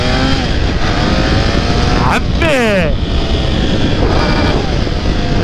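A new motorcycle's engine roars loudly and steadily throughout, with a rising and falling rev sweep in the middle, while a voice speaks over it.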